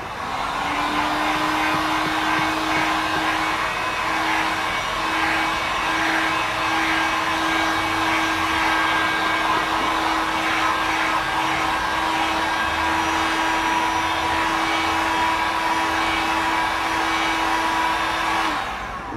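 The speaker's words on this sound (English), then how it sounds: "dryer that I've got there, and we'll just dry that up a bit to speed the process up" A hair dryer blows steadily over freshly repaired car paint. Its loud, even whirring hum with a constant motor whine continues unbroken for the whole span, close to the listener.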